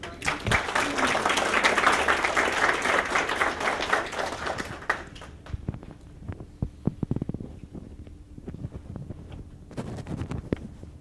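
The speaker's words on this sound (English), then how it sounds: "can we give her a round of applause?" Audience applause in a lecture setting, dense clapping for about five seconds that thins out into scattered claps and fades.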